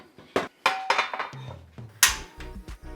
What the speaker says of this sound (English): Can bring our pan back.